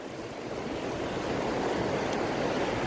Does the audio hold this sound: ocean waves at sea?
yes